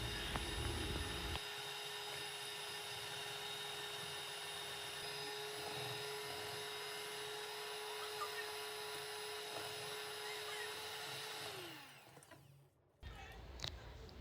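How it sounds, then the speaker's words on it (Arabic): An electric mixer whirs steadily at close range, beating apple cinnamon cake batter ingredients for a long stretch, then winds down and stops before a brief clatter. "غادي نضرب المكونات ديالي مزيان حتى كيضاعف الحجم ديالهم وكيصبح اللون ديالهم ابيض"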